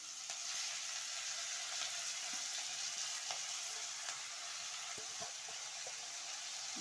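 Punarnava amaranth leaves go into a hot frying pan and sizzle steadily, a bright continuous hiss with a few small pops and clinks, no talking.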